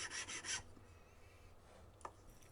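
Metal file rasping on a small silver watch part, a few quick close strokes in a burst, then faint bench noise and a light tap.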